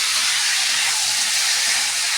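Water poured into a hot pan of spice-fried potatoes sets off a loud, continuous sizzling hiss that holds steady throughout, close and alone.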